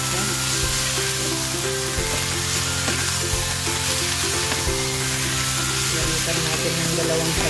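Igado meat frying in a pan, a loud, steady, close sizzle with occasional stirring knocks running the whole time.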